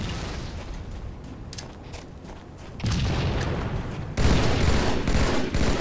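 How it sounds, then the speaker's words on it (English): Dense bursts of video-game gunfire fill the whole stretch, rapid automatic shots and booming blasts growing louder in two sudden steps, with no talk over them. "I'm getting shot right here"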